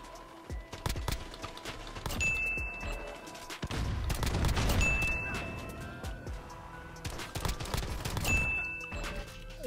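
M1911 pistol shots in Modern Warfare crack out in scattered single reports and quick bursts over busy game noise and footsteps, with faint talk in the mix.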